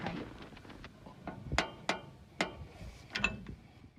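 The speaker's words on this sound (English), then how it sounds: "I tighten the axle nut until the hub won't spin freely anymore, and then I back it off a quarter of a turn" Sharp metallic clicks and ratcheting taps ring out at irregular intervals while an axle nut is tightened on a 1980 Ford F-350 Dana 60 rear hub, close and fairly quiet with no speech.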